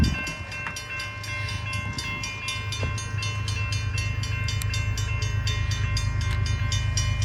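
A CSX freight train rolls past on the southbound main line in Madison, its wheels clacking rhythmically over a steady low rumble at close range.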